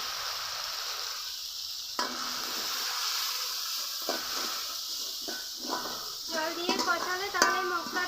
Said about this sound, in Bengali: লবণ দিব হলুদের গুঁড়া সামান্য একটু জল দিয়ে কিছুক্ষণ কষিয়ে নেবো